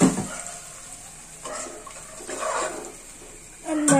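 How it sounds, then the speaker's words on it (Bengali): Water is poured into a pan of fried onions, a brief rushing, bubbling splash heard close up at the start and end, with quieter watery hiss between and no speech. "পেঁয়াজটি ভাজা হয়ে গিয়েছে, এখন পানি দিয়ে দিলাম।"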